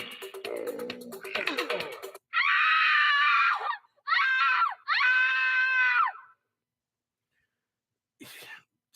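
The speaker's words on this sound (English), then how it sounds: "why do you keep hitting the women's scream?" A women's scream sound effect is fired off several times by a sound operator, three loud shrill bursts following some coughing and throat-clearing noises, then a brief faint sound after a silence.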